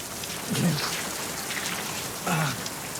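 Outdoor rain falling in a soft, steady wash, with brief voiced sounds rising over it twice.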